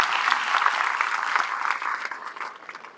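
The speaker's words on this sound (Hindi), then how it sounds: "ताली बजा दो यार" Dense applause from an audience fills the space evenly, a sustained crowd of clapping hands that holds steady and then tapers slightly toward the end, with no voices over it.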